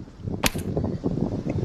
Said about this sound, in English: Gunshots over there.